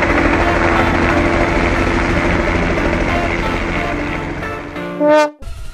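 A helicopter engine drones steadily with rotor thrum and layered game noise in Grand Theft Auto V, ending with a brief rising electronic tone.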